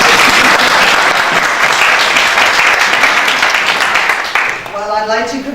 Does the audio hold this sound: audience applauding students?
yes